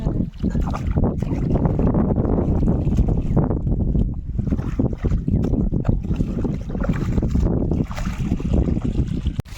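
Pump water gushing into a mustard field to irrigate it, a loud, steady splashing rush that stays close and continuous throughout.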